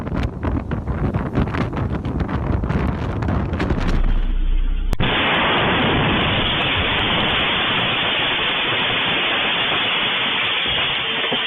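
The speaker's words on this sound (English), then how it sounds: "A powerful explosion suddenly rocked a parking lot in Makhachkala, Russia" A powerful explosion in a parking lot in Makhachkala, Russia: heavy, continuous roaring blast noise with crackling bursts, then a sharp change into a dense, sustained broadband rumble, loud and close throughout.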